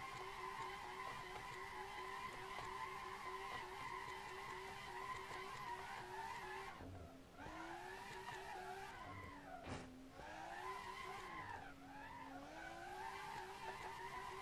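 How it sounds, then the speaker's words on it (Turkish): A Tofaş car drifts on a mountain road in Assetto Corsa, engine droning close and continuous while tires squeal and skid, with revs dipping and surging as it slides. "Araba gaza basınca hemen zaten kaydırıyor kendini."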